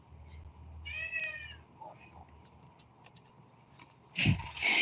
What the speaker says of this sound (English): You hear my cat meowing in the background